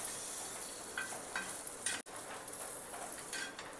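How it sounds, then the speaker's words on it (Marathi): Green chilies and peanuts roast in a pan for a fasting-style thecha, giving a steady close sizzle with a few soft scraping stirs and one brief clatter near the middle, no voices. "आता ही छान भाजून घेऊया मिरची."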